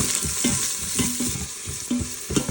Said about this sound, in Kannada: ಸ್ವಲ್ಪ ಲೈಟಾಗಿ ಫ್ರೈ ಮಾಡ್ಕೊಳ್ತಾ ಇದ್ದೀನಿ